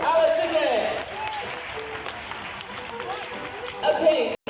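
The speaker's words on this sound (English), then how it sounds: "have a nice round of applause for our chickens" Audience applause at a bird show in a safari park, with scattered clapping mixed with crowd chatter and voices, moderately loud and continuous, then stopping abruptly at the end.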